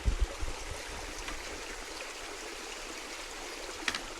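Water of a stream runs steadily across a flooded stretch of the South West Coast Path where a bridge is out, a continuous close hiss and trickle with a couple of low thumps at the start.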